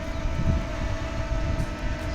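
A DJI Mini 2 drone, faulty and drifting left after repeated service repairs, hovers with a steady, loud, continuous motor and propeller whine, no speech.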